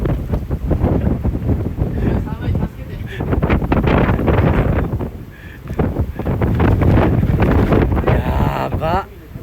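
Strong typhoon wind buffets the microphone outdoors in a roaring, gusting rush that rises and falls in waves throughout, loud and close, with voices talking underneath.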